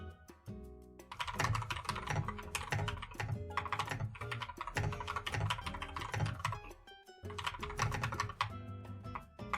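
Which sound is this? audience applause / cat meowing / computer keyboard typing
computer keyboard typing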